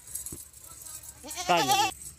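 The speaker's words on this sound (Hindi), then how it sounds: "ये टोटल 9 बकरियाँ हैं, एक बकरा है।" Goats on a goat farm in Pakistan bleat nearby. A short call is followed by one loud, quavering bleat that lasts about half a second, over faint background noise.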